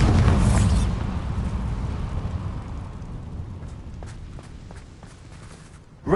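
A loud rumbling blast opens, then fades into a low roar with faint crackles, ending on a sudden burst. These are Confringo and Bombarda spell explosions in Hogwarts Legacy.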